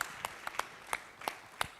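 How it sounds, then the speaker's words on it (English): Audience applause at a conference: sparse, faint claps scattered irregularly, heard from a distance with only a few hands clapping. "We are requesting that we give him a round of applause."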